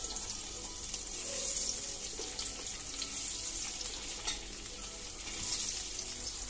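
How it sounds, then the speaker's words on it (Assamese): Paneer pieces fry in hot oil in a home kitchen, a continuous bright hiss and crackle holding steady with a few louder pops scattered through. "ইয়াতে মই পনীৰখিনি ভাজি লৈছোঁ"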